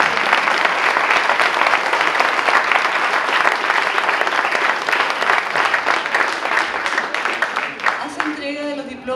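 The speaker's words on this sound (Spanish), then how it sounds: "Para todos ellos, un gran, gran aplauso." Sustained applause fills a wine awards ceremony for sparkling wine winners, a dense steady wash of many hands clapping, fading at the end as a voice begins speaking.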